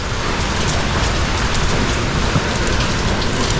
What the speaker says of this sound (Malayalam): ഇപ്പൊ ഇവിടെ മഴയാണ്.